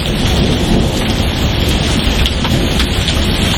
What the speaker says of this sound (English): the ground, the hailstones all jumping in